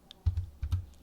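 A few quick keystrokes on a computer keyboard while entering a row height in an Excel spreadsheet, two close pairs of soft clicks heard alone.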